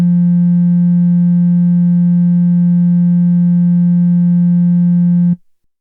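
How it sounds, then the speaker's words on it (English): A steady, loud pure sine wave tone from a synthesizer holds at one pitch for about five seconds, alone, then cuts off abruptly. "that sounds like a sine wave to me"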